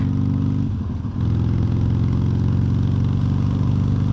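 Motorcycle engine during a ride, a loud steady low rumble that dips briefly near the start and then holds a strong, even throb, alone and close.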